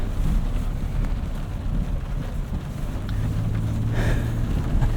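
A 2025 Nissan Armada Pro-4X SUV drives off-road through mud, giving a steady loud rumble of engine and tyres with heavy wind buffeting on the microphone throughout.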